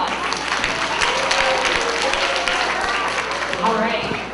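Schoolchildren and staff at an elementary school applaud Miss America, a dense, steady round of clapping from a crowd with some voices mixed in.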